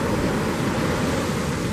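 Waves crash and churn into a steep shore dump in a constant, loud roar of surf with wind noise buffeting the microphone and no voices.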